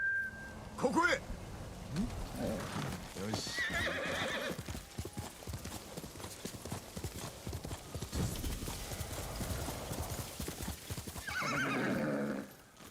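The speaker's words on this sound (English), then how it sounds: "And I'll call the horse back." Hoofbeats clip-clop in as a horse is called back in Ghost of Tsushima, with a sharp neigh early on and steady galloping hooves throughout, over background game music and someone talking.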